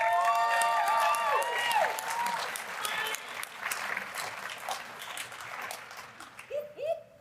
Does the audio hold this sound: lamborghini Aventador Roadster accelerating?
no